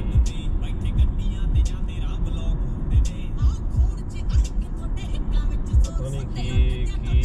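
A car rolls steadily along a road at slow speed, its engine and tyre rumble continuous and close throughout, with background talk mixed in.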